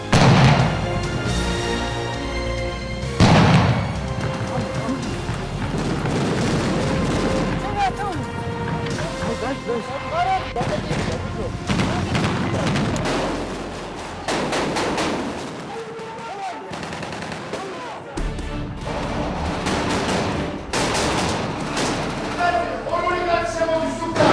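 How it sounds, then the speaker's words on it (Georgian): Repeated simulated explosions and bursts of gunfire during military training rumble at a distance while a person talks over them throughout. "შენობის გარეთ დაბომბვისა და აფეთქებების იმიტაცია ხდება"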